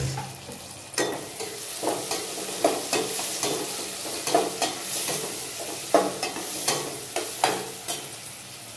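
Chopped onions with a pinch of salt fry in a spiced oil tempering for cabbage fry, a steady close sizzle broken by regular scraping strokes of a spoon stirring the pan, with no voices.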